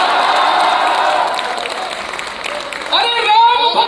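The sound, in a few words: audience applause at a poetry recital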